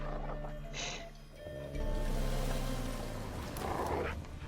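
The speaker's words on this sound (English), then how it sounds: "Just beware of the dogs." Dogs in The Witcher 3: Wild Hunt video game: low growls and rough barking mixed with ambient rumble, fairly close and moderately loud, with no talking.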